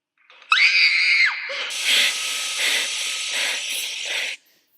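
A high, piercing scream sound effect rises and bends for about a second, then gives way to a loud, hissing, rasping screech that holds for several seconds before cutting off abruptly into silence.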